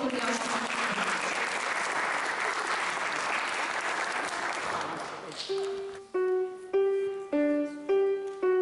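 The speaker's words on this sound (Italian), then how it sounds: "Facciamo un applauso e lo accogliamo." An audience at a piano class recital gives sustained, dense applause that fades out, followed by a child starting to play piano with distinct separate notes.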